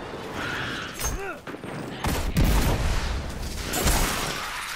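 Gunfire in the video game Destiny 2 during a mission to save Failsafe, with a few sharp shots and booms over layered game effects and ambience, while a player talks over the action.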